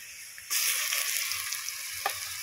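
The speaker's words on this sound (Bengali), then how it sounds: "পেঁয়াজ কচানোগুলো দিয়ে দেখুন হালকা লাল লাল করে ভেজে নিয়েছি। সঙ্গে দিয়ে দেবো এবারে রসুন বাটা" Onions fry in hot oil as garlic paste goes into the pan, the sizzle jumping suddenly louder and then holding steady, with a brief scrape near the end.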